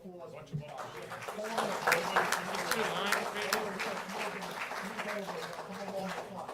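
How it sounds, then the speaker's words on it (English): Applause at a township council meeting, steady scattered clapping from the room that continues throughout while people talk over it nearby. "A round of applause."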